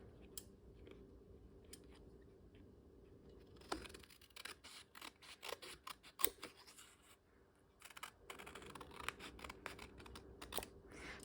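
Scissors snipping paper for a journal page, quiet at first and then a run of close, crisp, rapid cuts with short pauses between strokes.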